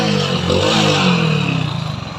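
A Hero Splendor motorcycle engine with a white-smoke problem runs close by with a loud, gritty mechanical clatter that settles into a pulsing idle toward the end.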